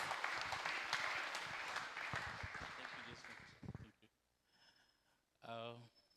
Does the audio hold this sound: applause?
yes